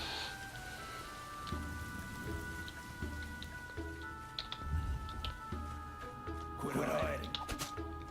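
Rushing water from a waterfall in the video game Delver, a steady soft hiss like rain under low game tones, with a brief louder splash near the end.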